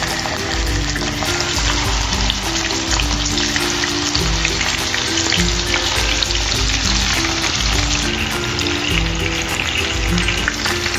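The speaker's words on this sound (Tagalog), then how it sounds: "ilalagay na natin ang ating chicken. Ito-fry natin ng mga 5 minutes" Marinated chicken frying in a pan for homemade chicken curry with potatoes: a loud, steady, close sizzle that runs unbroken throughout, with faint stirring and no talking.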